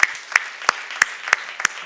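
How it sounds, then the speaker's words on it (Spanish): Six short bursts of clapping at an even, steady rhythm, like a small church congregation clapping along together during a Good Friday service, fairly close with no talking. "dale un aplauso al Señor"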